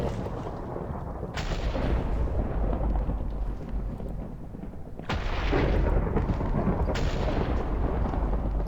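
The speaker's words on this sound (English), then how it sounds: "you toss these and they just generate a stroke of lightning wherever they are." Lightning strikes called down by thrown items in the Minecraft Evilcraft mod crack out as three sharp thunderous blasts, each followed by a rolling rumble, loud and close with no talk.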